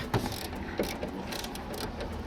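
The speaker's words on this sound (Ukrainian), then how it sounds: "Трещоткою просто відкручую." A ratchet wrench unscrews a car ball joint during a repair in a parking lot, giving close, rapid clicking ratchet strokes in short bursts with metallic rattles.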